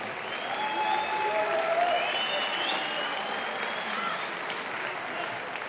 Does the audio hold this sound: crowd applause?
yes